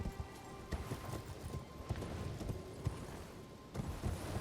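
Horse galloping in Elden Ring, a steady run of clip-clop hoofbeats with a brief neigh-like tone, moderately quiet under constant game ambience.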